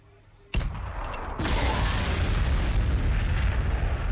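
An artillery shot booms out in the Warhammer 40,000: Sanctus Reach strategy game, a sharp blast that gives way to a dense, rolling roar of fire and debris lasting several seconds.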